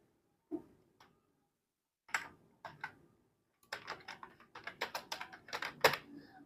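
Keys on a computer keyboard clack as a name is typed, starting with a few isolated taps and building into a quick, uneven run of close, crisp keystrokes with no talking.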